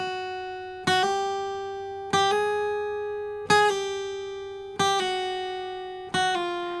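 Five guitar notes sound one at a time, hammer-ons and pull-offs with uneven spacing between the attacks, each note ringing clearly and decaying before the next, no voice present.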